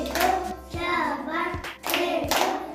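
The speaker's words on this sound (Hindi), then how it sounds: "चलो उनके वास्ते शाबाश की तालियां डालो" A class of young children claps in praise during a lesson, a quick run of hand claps in short bursts with a moment of voices between them, moderately loud and close.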